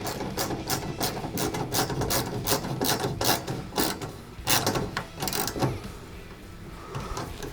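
Bolts on a bedside rack light for a 4th-gen RAM truck are tightened with a rapid, steady ratcheting click that continues for several seconds, close and loud, with no talking.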